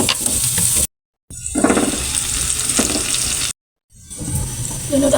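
Garlic and onion frying in a pan, a close steady sizzle broken by two short silent gaps, with soft stirring noises and no voices.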